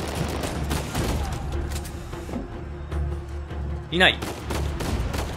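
Gunfire in the video game Uncharted 4 cracks in quick bursts under an excited player's commentary, mixed with game music, impacts and a rising whoosh near the end.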